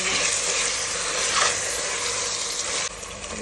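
Onions, tomatoes, coriander and mint being stirred as they fry in a pan for biryani, with a steady close sizzle and the scrape of stirring running throughout, no voices.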